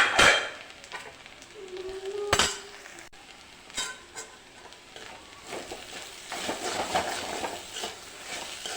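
A spoon scrapes and clinks against an Indalium aluminium pan while thoran stir-fry is stirred, with sharp metallic taps early on and a soft continuous sizzle building toward the end, close and fairly quiet.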